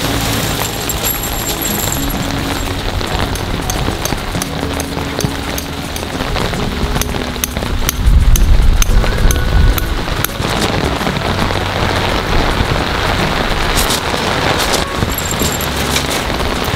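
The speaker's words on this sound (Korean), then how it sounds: "빗소리를" Heavy storm rain pours onto a campsite and tent during a 150mm downpour with wind, a dense, steady roar that swells louder for a couple of seconds midway.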